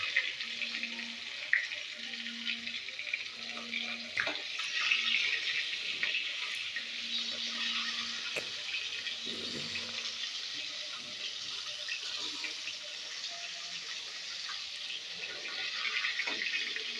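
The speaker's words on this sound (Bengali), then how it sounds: "এইভাবে হালকা হালকাভাবে ভাজতে হবে।" Katla fish pieces fry lightly in a pan of oil, giving a soft, steady sizzle that stays quiet and even, with faint clinks and a low hum in the background.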